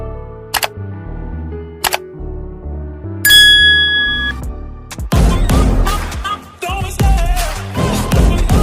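Notification bell ding effects: two short isolated chimes, then a longer ringing bell tone, followed by a busy burst of clattering music-like hits and jingles, loud and close with no speech.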